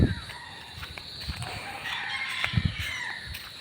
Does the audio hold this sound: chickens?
yes